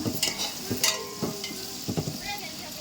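Onions frying in a pan for biryani, with soft sizzling broken by a few short stirring scrapes and clinks of a utensil at moderate, close-up level.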